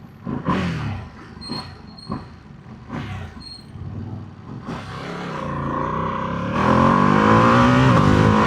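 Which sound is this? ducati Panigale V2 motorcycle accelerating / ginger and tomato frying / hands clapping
ducati Panigale V2 motorcycle accelerating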